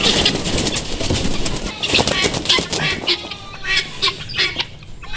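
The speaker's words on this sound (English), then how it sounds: "toss one more guinea hen out" Guinea fowl cluck and squawk in quick, choppy bursts close by, mixed with rustling and a voice talking over the flurry.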